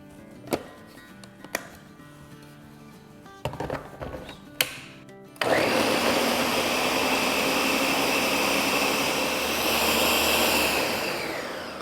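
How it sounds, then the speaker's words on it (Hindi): Blender whirring through strawberries, guava and apple for a drink, a loud continuous roar starting abruptly after a few light clicks and taps, close and alone without speech. "और अब इसे हम ब्लेंड करेंगे।"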